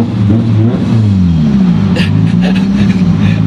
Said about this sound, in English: Driving the Black Barney Evo in traffic.